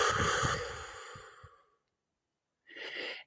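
A slow, deep breath drawn in and then released during a guided meditation, followed by a short pause of near silence and a softer second exhale at the end, close and quiet with no talking.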